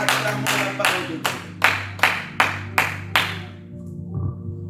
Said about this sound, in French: Acclamons la parole de Dieu puissamment